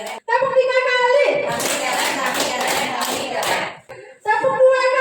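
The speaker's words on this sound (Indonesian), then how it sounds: "Tepuk 3 kali." A group of people claps three times on cue, a short dense burst of clapping that starts and stops sharply, with a voice calling the count before and after.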